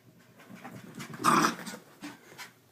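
A small female dog pants and breathes heavily after her bath, close to the microphone, in a short burst that swells in the middle and then eases off, with a few lighter breaths following indoors.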